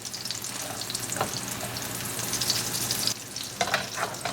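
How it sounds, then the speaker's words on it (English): Homemade chicken meatballs sizzle steadily in a pan on a gas stove, with soft clinks and scrapes as they are turned. The frying is continuous and close, and no one speaks. "So I'm going to keep turning just like this as it changes the color, and we're going to keep cooking"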